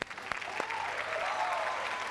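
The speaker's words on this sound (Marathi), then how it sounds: "पण या किरणसाठी एकदा जोरदार टाळ्या झाल्या पाहिजेत" A studio audience at a Marathi TV comedy show breaks into steady, dense applause, a sustained wash of clapping that stays fairly even and moderately loud throughout.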